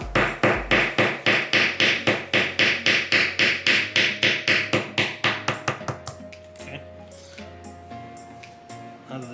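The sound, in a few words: hammer tapping the shaft of an Aibo ERS-7 robot dog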